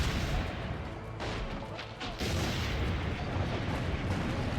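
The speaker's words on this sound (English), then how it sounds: "I've got to press A to use a cannon." Cannon fire and crumbling destruction of a structure in Assassin's Creed Brotherhood: heavy booming impacts and crashing debris in a dense, continuous roar, with a louder burst partway through.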